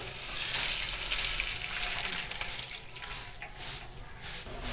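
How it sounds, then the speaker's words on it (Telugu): Water runs and splashes into a hot pan, hissing and bubbling at moderate volume with a few surging bursts. "ఇంకా వాటర్ యాడ్ చేసేస్తాను"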